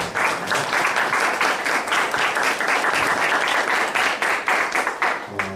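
A lecture audience applauds steadily to welcome a visiting professor, with dense, loud clapping that runs evenly for about five seconds before tapering at the end.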